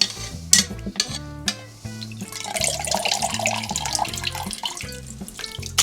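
A household toilet flushes with paper towels in the bowl, a loud steady rush of water and swirling drainage filling several seconds alongside background music.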